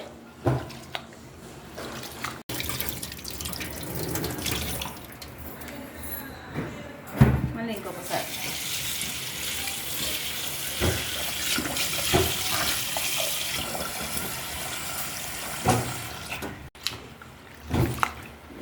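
Rice and lentils for idli batter are swished and rubbed by hand in water in a vessel, with steady sloshing and splashing close by and a few sharper knocks throughout.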